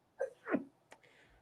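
A single sneeze bursts out close by, a short intake followed by a sharp explosive release in a quiet indoor room, with a faint trailing sound after it.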